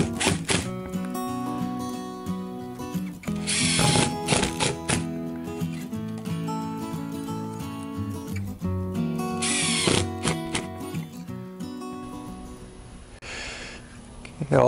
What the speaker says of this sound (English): So we'll put just one screw in the other two, and then we'll come back and fill them in.